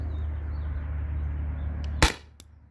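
HPA-powered airsoft gun, a Grimburg Jul V3 fed from a 1050 PSI tank, fires a single sharp crack over a steady low hum, followed by a fainter click.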